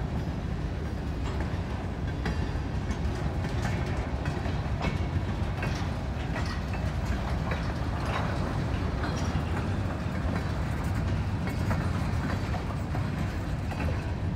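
A freight train shoves cars back onto a spur leading to a grain elevator in the rain, producing continuous rumbling and clickety-clack of wheels over rail joints, with steady rain noise throughout and no voices.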